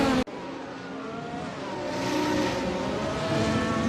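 A race car engine in a racing video game revs after a spin, a steady loud mechanical drone with rising harmonic tones after a sharp cut at the start, building slightly in intensity.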